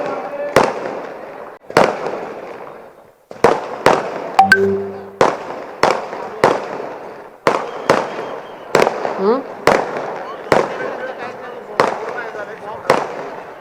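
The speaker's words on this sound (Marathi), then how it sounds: "अरे जे फटाके 16 तारखेला फोडायचे आजच फोडून राहिले" Firecrackers burst outdoors at a celebration in Kalyan, a series of sharp, loud bangs about a second apart, each trailing off in a short echo, with people talking in between.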